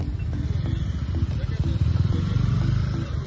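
A motorbike ridden on the way to a hanging bridge near a waterfall, about 90 km from Hubballi: a close, steady engine chug with rhythmic low thumps and light rattling, continuous for the whole stretch.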